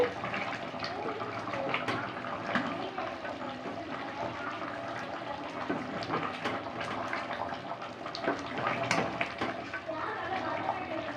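Goat head gravy bubbles and boils vigorously in a pot nearby, a steady gurgling wash with frequent small pops.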